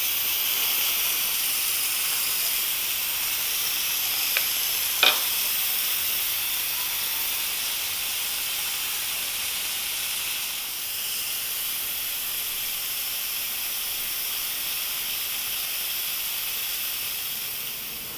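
A pressure cooker venting steam after cooking spare ribs, a continuous loud hiss lasting the whole stretch with a short sharp metallic tick partway through, no voices.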